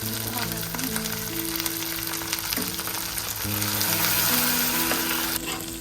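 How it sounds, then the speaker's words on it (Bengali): Coconut and poppy-mustard prawn gravy fries in a pan, a loud continuous sizzle close by, with music playing over it throughout. "ওই গ্রেভিটা ইতিমধ্যে হচ্ছে ভাজা ভাজা হয়ে যাচ্ছে"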